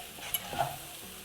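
Potato curry filling mixed in a hot pan, a soft, quiet sizzle with a couple of light spoon scrapes over about a second.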